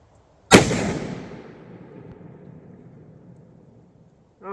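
A single loud rifle shot from a stainless Tikka T3x Lite chambered in 270 WSM, fired outdoors at a 50-yard range, with a sharp crack and a long decaying echo rolling away afterward.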